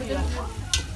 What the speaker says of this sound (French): Cresson, tomates et farine que l'on fait frire tout simplement comme ceci.